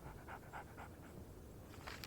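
A dog in Alan Wake Remastered pants steadily in quick, rhythmic breaths over a heavy background drone of game ambience.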